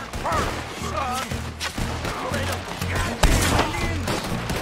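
A shootout from Red Dead Redemption 2 with gunfire crackling in rapid bursts under a steady hum of game music and noise, with one heavier boom standing out, while voices shout over the fight.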